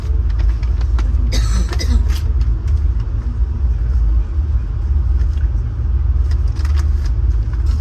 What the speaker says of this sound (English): We have two GM F40 PH-2 diesel electric locomotives.